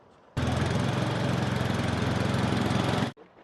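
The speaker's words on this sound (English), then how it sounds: "We're now using a Dennis FT mower. We've fitted a brush cassette in it today" A Dennis FT mower fitted with a brush cassette works as a clean-up tool on a bowling green during spring renovation. Its engine roars up suddenly, runs loud and steady for about three seconds, then cuts out.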